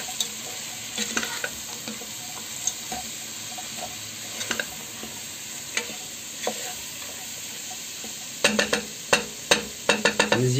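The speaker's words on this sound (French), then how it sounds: "Et on mélange." A spoon stirring a pot of harira soup with lamb, chickpeas, coriander and parsley: quiet scraping and clinks that come sparse at first and quicken into a run of sharp knocks near the end, over a soft simmer.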